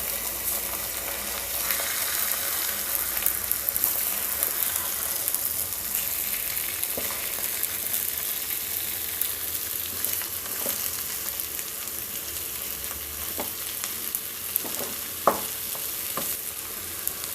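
Capsicum egg masala being gently stirred up from the bottom of a pan, a steady soft sizzle of frying with scattered light scraping clicks from the spoon, close and continuous with no talking.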